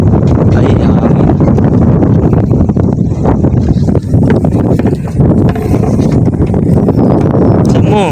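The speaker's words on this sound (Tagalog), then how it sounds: "Ay, hangin." Strong wind buffets an outdoor microphone with continuous low rumbling, loud and close throughout, while people talk over it.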